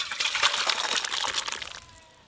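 Shrimp and taro sour curry pours from a pot in a short liquid splash that gushes and then trails off into a quiet trickle.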